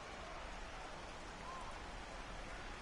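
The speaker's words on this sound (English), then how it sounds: "the rain starting to intensify here. It's coming down a little heavier now" Rain falls steadily at a ballpark in the baseball video game The Show 18, a soft, even wash of drops without a break, heard faintly and alone.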